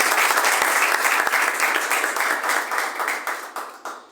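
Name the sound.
audience applause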